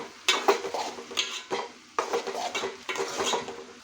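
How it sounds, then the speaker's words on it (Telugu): Okra fry with tomato and chili powder being stirred in a cooking pan, with repeated scraping strokes of a spoon against the metal in irregular bursts and a faint sizzle underneath. "ఇప్పుడు ఒకసారి మొత్తం కూడా కలిపేసుకోవాలి."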